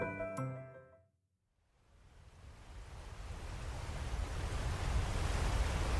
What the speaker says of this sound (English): Water thundered over Grand Falls in a powerful, muddy rush